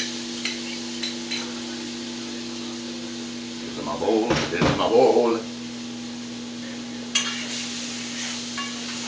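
Beef and leftover sauce are stirred in a pan with a bamboo or wooden spoon, giving a brief burst of scraping and sizzling midway. Someone talks over it, with faint clatters and a steady low hum behind.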